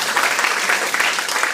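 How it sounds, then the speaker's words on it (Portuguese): Congregation at a church service in Campinas, Brazil, applauding in praise: a steady, dense wash of clapping that holds at an even level throughout, with no voices standing out. "Aplauda o Senhor então."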